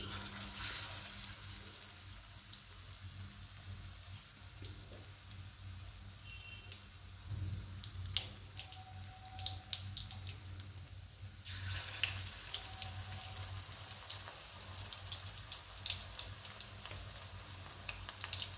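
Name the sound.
battered cauliflower pakoras frying in hot oil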